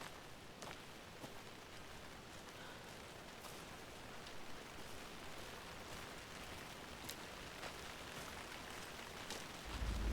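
Steady rain in the video game Alan Wake 2, a faint, even hiss of falling water with scattered soft drop ticks, continuous and distant, swelling slightly at the very end.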